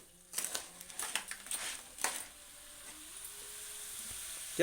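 Crabs fry in a pan, crackling and sizzling with sharp spattering pops early on that settle into a steady hiss, close and without talk.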